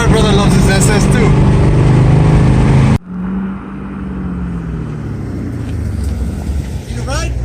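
A Chevrolet Camaro SS 1LE engine roars under hard acceleration, a loud, close, rising drone that drops abruptly at a gear change and then builds again. Voices are heard over the engine.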